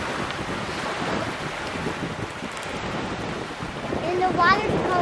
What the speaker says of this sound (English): Look where is the wind blowing.